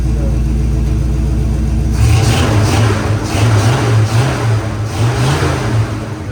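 A Chevrolet Blazer engine idles with a steady low rumble, then revs up from about two seconds in, pulsing through several throttle blips, close and loud.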